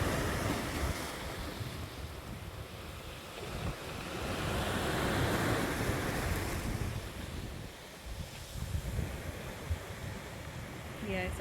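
Surf washes onto a black sand beach on Santorini in steady, rolling waves, with gusts of wind buffeting the microphone throughout and a swell of louder water near the middle.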